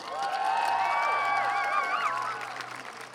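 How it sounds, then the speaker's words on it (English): An outdoor Pride rally crowd in Groningen breaks into steady applause mixed with high, rising whoops and cheers, holding strongly for about two seconds before thinning out. "Let's give a round of applause."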